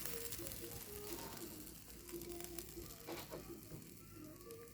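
Broth goes into a pot of fish curry cooked with taro stolons, a steady soft sizzle and bubbling at close range with faint stirring clinks, alone.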